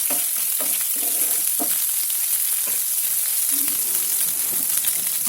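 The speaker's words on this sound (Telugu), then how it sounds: "వేసుకొని దాని పచ్చివాసన పోయే వరకు కొద్దిగా కలపాలి" Two spoons of ginger-garlic paste fry in hot oil for a boiled egg curry, giving a loud, continuous, close sizzle with intermittent stirring scrapes.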